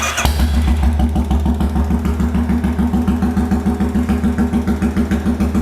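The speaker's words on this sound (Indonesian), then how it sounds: "Suaranya dep dep dep dep dep. Jadi khas banget, memang Royal Enfield itu serius enak banget." A Royal Enfield 350cc chopper motorcycle with a free-flow exhaust idles close by, its engine thumping in a fast, even, loud beat throughout.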